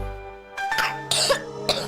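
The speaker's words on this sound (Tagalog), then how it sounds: "Ubo ng anak, nakababahala, baka plema." A child coughs in a cough syrup advertisement: several harsh, close coughs and throat-clearing bursts in quick succession, with no talking.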